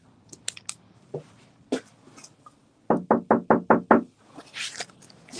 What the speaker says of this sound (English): Get one more knock.